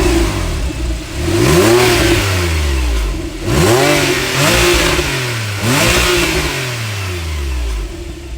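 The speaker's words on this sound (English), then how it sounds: "That is a Porsche sports exhaust system." A Porsche 911 (997.2) with a Porsche sports exhaust revs hard several times in a row, each rising snarl from the exhaust dropping back between bursts, loud and close.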